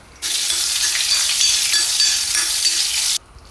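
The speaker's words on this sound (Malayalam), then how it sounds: "ചട്ടിയിൽ വെളിച്ചെണ്ണ ഒഴിച്ച് നമുക്ക് കടുകും വറ്റൽമുളകും അത് വഴറ്റി അതിൽ ചേർക്കണം." Mustard seeds and dried red chillies sizzle and crackle in hot coconut oil in a pan, a loud steady frying hiss that starts abruptly and stops after about three seconds, with no voices.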